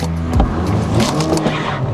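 A small car with a weak 1.2 litre engine accelerates hard from a standstill, its engine note droning loudly and steadily close by, with a brief burst of tyre or wheel noise early on.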